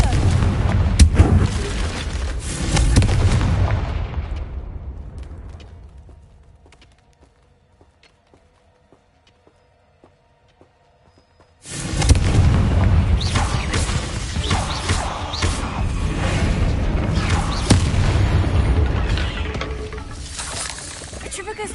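Confringo blasting spell explosions in the Hogwarts Legacy video game, dense loud booming and crashing for several seconds, a near-silent gap with faint tones, then another long burst of heavy blasts and rumbling.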